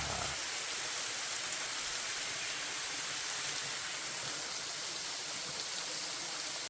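Kaeng Nyui waterfall in Laos in the dry season gives a steady, broadband rush of falling water that is loud and unbroken, with no voices.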